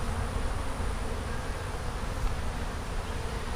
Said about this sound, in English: probably one of the smallest swarms I ever caught